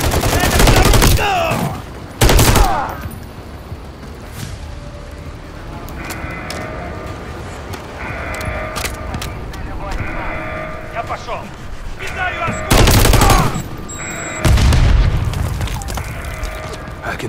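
Gunfire and explosions in Call of Duty Modern Warfare 3 during a fight near a bridge and bomb site: loud booming bursts around the start and end, with lighter shots and a game voice in between.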